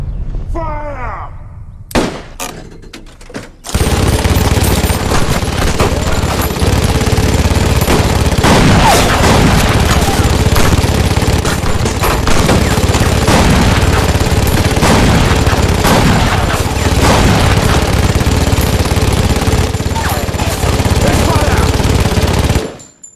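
Rifles fire a sustained volley in an action film battle scene, loud dense bursts of gunshots that run for about twenty seconds after a brief quiet opening with a few isolated sounds.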